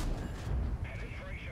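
A tank cannon fires in World of Tanks, a Centurion shooting at an IS-4 on the Malinovka map. A loud, booming blast with a rumbling tail sits under someone talking throughout.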